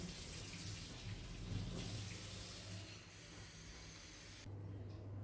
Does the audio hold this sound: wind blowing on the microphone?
no